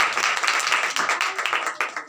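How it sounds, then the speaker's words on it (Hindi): A congregation at a Christian women's seminar claps loudly in a quick, steady rhythm, a dense run of sharp hand claps lasting a couple of seconds with no talk. "आज जोरदार तालियां बजाएंगे।"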